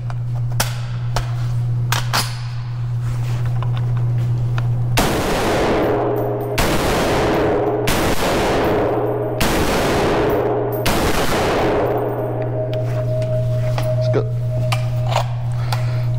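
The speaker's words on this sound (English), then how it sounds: "So it's my turn to shoot the M1A." A Springfield Armory M1A .308 rifle fires outdoors, about five loud, sharp shots spaced a second or two apart, each with a ringing echo, over a steady low hum.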